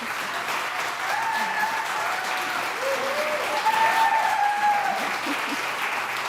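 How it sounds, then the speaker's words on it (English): A round of audience applause after a talk on patient self-advocacy following a cancer diagnosis, even continuous clapping from a room full of people, with faint voices underneath. "let's give a round of applause to these guys"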